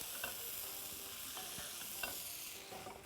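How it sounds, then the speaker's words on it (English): Beef is stirred into a bubbling stroganoff sauce in a hot pan, giving a continuous soft sizzle. Light scraping and clacking of a spoon against the pan come in short irregular strokes, quiet and close. "I'm just gonna add the beef to it now. Just give it a good stir."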